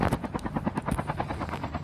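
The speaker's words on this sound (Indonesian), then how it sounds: "yes ada helikopter" A helicopter in a shooting video game, with a steady rotor whir and repeated chopping pulses running throughout, loud and close, with no talk over it.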